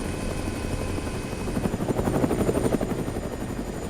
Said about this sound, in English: Helicopter propellers, or not propellers. Rotors stop moving on me.